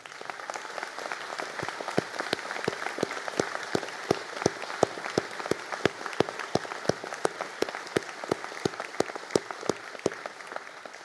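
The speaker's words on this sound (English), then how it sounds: "and we'll give a round of applause." Audience applause for graduates standing at a construction management conferring ceremony, a steady wash of many hands clapping through the whole stretch with crisp individual claps popping out, fairly distant and even, no talk over it.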